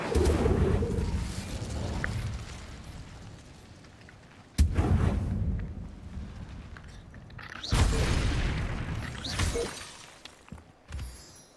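An Incendio fire spell cast in the Hogwarts Legacy video game, heard as three loud bursts, each a sharp blast that breaks into a roaring crackle and fades. No voices are heard.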